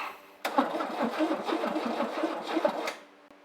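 A car engine cranks over while trying to start with fuel just reaching the filter, the starter churning in a rapid, steady rhythmic whir for about two and a half seconds, close and loud, then stopping without catching.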